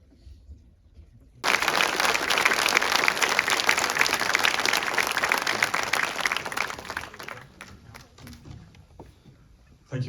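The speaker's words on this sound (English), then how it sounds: "please, a round of applause for the director and the incredible cast" A festival audience bursts into sustained applause for the director and cast at a TIFF screening of the 2023 New Zealand film The Convert. Loud, dense clapping starts abruptly after a quiet moment and continues steadily for several seconds.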